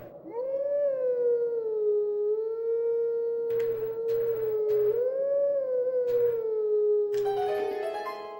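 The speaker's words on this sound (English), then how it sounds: "we're going to howl at this howling stone over here" Wolf Link's long, steady howl at a howling stone in Zelda: Twilight Princess, a sustained tonal call that rises and dips over about eight seconds, with short chiming game tones near the end.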